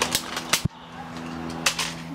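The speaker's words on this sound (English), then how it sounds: "That's how you shoot the Maverick." Nerf Maverick toy blaster firing foam darts, giving a few sharp plastic snaps and clicks spaced irregularly, close and fairly quiet against a faint steady hum.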